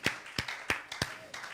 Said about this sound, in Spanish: Dámosle un aplauso al Señor.